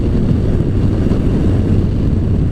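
A Kawasaki Concours 14, with its ZX14-based engine, pulls on an easy roll-on as a steady, loud low engine roar that is heavily mixed with wind rush, with no speech.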